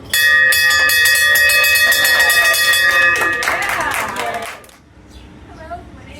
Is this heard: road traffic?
no